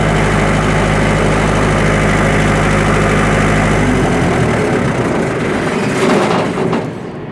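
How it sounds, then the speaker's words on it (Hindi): A diesel generator engine runs with a loud, deep, steady drone, then cuts off abruptly with no cooldown, leaving a brief fading rumble and rattle as it winds down. "जब हम इंजन को स्टार्ट करते हैं और स्टॉप का बटन दबाते हैं इंजन सडनली शट डाउन हो जाता है"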